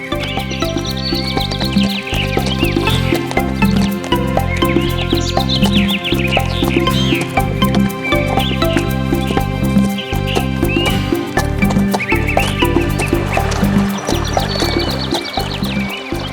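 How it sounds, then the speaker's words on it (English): A horse whinnies several times over steady hoof clip-clops in an animated children's story, set against a loud, busy musical background. "Come on, horse. Start walking."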